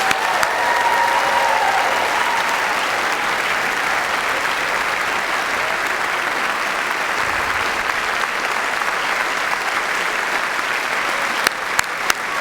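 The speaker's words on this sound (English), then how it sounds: "How about another round of applause for our newest doctoral degree recipients?" Sustained, loud applause from a large audience at a doctoral hooding and graduation ceremony, a dense steady wash of clapping lasting throughout with no break.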